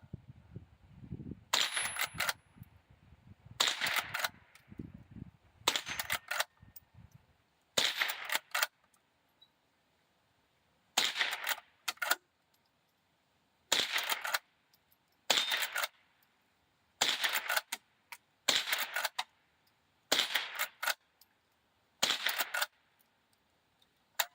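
Eleven sharp cracks from a Marlin 39A .22 rifle ring out one at a time at a range, evenly spaced every couple of seconds, each followed by a brief echo, with faint rustling in the quiet gaps between them.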